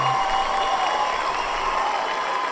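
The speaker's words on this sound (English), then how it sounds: "we don't need 36 seconds of cheering" A recorded cheering and applause sound clip: dense, continuous clapping and crowd cheering at an even level throughout.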